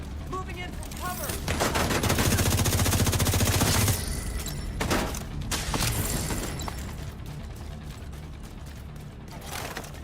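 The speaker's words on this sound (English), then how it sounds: "Were they shooting at me for no reason?" Enemies shooting guns in a video game, a dense, continuous rattle of rapid gunfire and clattering mechanical noise that swells for about four seconds and then thins into scattered shots and clicks under a busy, loud mix.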